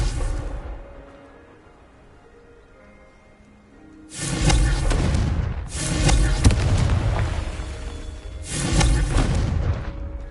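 Confringo fire spell blasts erupt in Hogwarts Legacy, three loud booming explosions each with a crackling roaring tail, separated by short gaps after a quiet, low opening.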